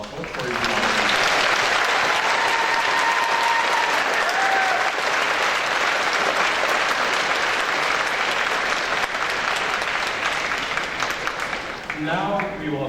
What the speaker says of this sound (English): Why don't we just take a moment and give them a round of applause for you.